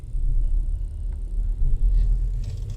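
A 2017 Hyundai Elantra with a replaced engine makes drivetrain noise while pulling away at low RPM: a steady, loud, deep rumble inside the cabin, with no talk over it.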